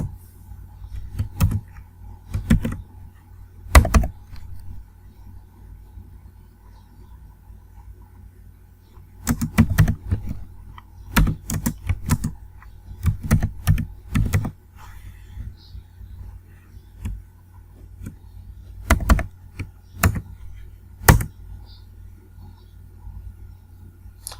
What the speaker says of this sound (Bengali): দেন আমরা বডিতে কোডটা লিখব